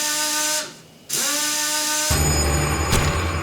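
A power drill in the horror game Death Mark, first a steady harmonic whine that dips and returns, then a loud, harsh grinding roar over the last second and a half, with no talking.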